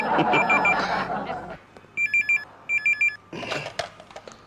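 A telephone bell rings in two short bursts of repeated trilling tones in an office, separated by pauses and framed by loud talk before and after.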